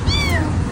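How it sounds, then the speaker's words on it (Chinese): One short, high meow from a small stray kitten, close and clear, bending downward over a soft background rumble with no speech. "是不是听到有猫叫？"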